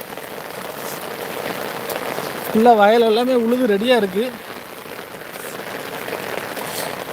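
Heavy rain pours down in Tirunelveli as a dense, steady hiss over farm fields, while someone speaks briefly partway through.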